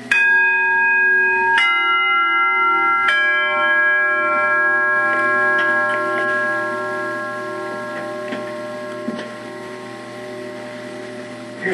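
Bronze church bell once used at St. Rose of Lima Catholic Church in Denver, struck twice in quick succession, each strike leaving a long, bright, shimmering resonance that hangs and slowly decays, heard close and loud.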